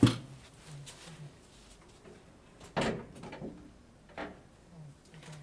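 An indoor door opens or closes once, a sharp broadband thud near mid-clip, in a quiet room with faint rustling and a few soft knocks around it.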